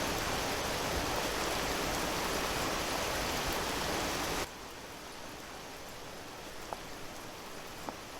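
Hail falling in Vintage Story, a loud steady hiss that drops sharply to a quieter level partway through as the volume is turned down, with a couple of faint clicks afterward.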